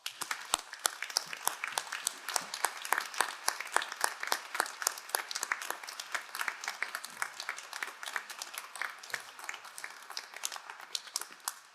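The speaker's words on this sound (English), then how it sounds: "please join me in a round of applause in recognition of her leadership to the Tepper School." An audience at a Carnegie Mellon Tepper School of Business undergraduate commencement ceremony applauds the dean, with dense, steady clapping from a large crowd sustained for about twelve seconds with no talking.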